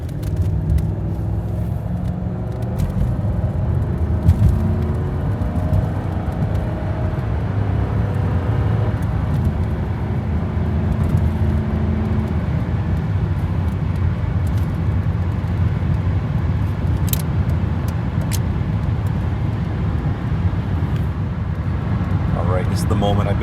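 A Lincoln Continental with a busted transmission driving on the road, giving a steady loud engine drone and road rumble from inside the cabin, continuous throughout.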